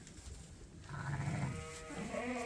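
Suffolk ewe during lambing on a farm, giving a drawn-out harmonic bleat that rises out of low background rumble, fairly close and moderately loud.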